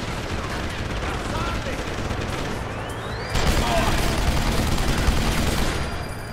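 Sustained gunfire in the video game Deus Ex: Human Revolution, a dense continuous barrage of shots that grows louder and heavier partway through.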